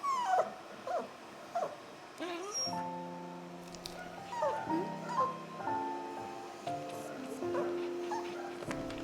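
Several dogs, including a faithful Labrador, yelp, whimper and bark in a busy, overlapping chorus, with some tonal cartoon-like music running underneath throughout.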